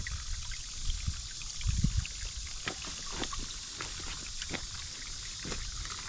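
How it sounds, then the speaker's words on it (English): Clear spring water trickles down into small pools on muddy ground, a faint steady hiss with soft scattered drips and splashes, alone without talk. "It's that crystal clear spring water that comes down here."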